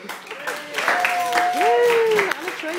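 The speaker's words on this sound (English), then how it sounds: "So give her a round of applause." Applause from a small audience welcoming a poet onstage, light clapping under talk and a few cheering voices.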